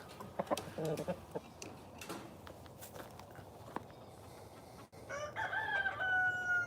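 A rooster crows once near the end, a drawn-out call over quiet outdoor ambience with a few soft footsteps and scuffs earlier.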